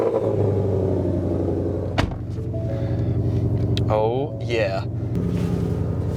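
A Lethal Performance 2020 Shelby GT500 V8 sits close by, rumbling at a low, steady idle, with a sharp knock partway through and someone speaking briefly over the engine.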